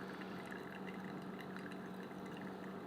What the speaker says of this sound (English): you can drip it, like literally drop by drop if you really wanted to, versus you can pour it faster